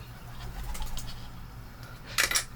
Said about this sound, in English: Pigeons are taunting my cat.